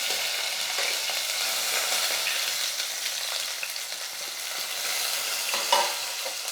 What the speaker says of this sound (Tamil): இப்போ வெங்காயம் சேர்த்துக்கிறேன் ரெண்டு வெங்காயம்